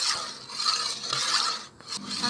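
Dessert mixture stirred again in a bowl, a close rasping, rubbing scrape that keeps going with a brief dip near the end.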